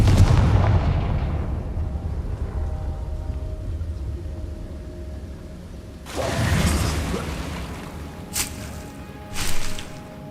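A Confringo fire curse explodes in Hogwarts Legacy, a loud muffled blast that rumbles and fades over a few seconds, followed later by a sharper burst and two brief crackling bangs.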